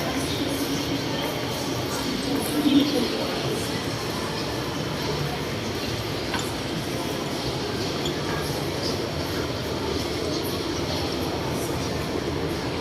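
An elevated BTS Skytrain near Phrom Phong in Bangkok, heading for Mo Chit, rumbles past with a steady, continuous roar and faint rail hum, loud and close throughout.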